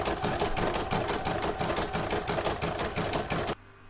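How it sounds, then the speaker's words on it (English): An embroidery sewing machine stitches a large seashell design, a loud, rapid, steady mechanical rattle of needle strokes running close and alone, stopping abruptly near the end. "I'm now going to pop it back in my machine and stitch right to round number 6 until it's finished."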